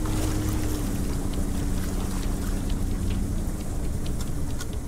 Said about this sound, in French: Dans la quiétude du delta, seul résonne le bruit du moteur.